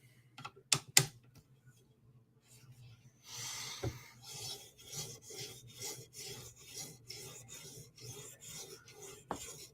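Chris Reeve Inkosi tanto blade drawn in a steady series of rasping strokes across a 2000 grit stone, close and fairly quiet, after a few sharp knocks at the start.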